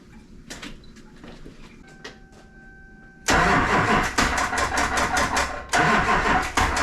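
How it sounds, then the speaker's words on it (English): A wrecked LBZ Duramax diesel pickup sits quiet with faint clicks, then cranks and fires at once into a loud, rough idle that stays strong, close by and without talk. "now we have to fire it up, let it warm up, check for leaks again"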